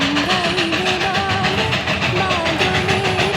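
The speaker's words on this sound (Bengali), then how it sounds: "এই যে নিচে যে ট্রেনটা দেখছো আসছে, সেটা কিন্তু ঘুরে ঘুরে এই উপর দিয়েই আবার আসবে" Darjeeling toy train approaches on the Batasia Loop with a close, rhythmic chugging and rumbling, steady and fairly loud, and a faint tonal whine running through it.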